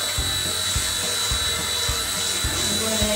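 A small Eachine E129 toy RC helicopter whirs with a high, steady rotor whine and rhythmic low pulses, close by and without talk.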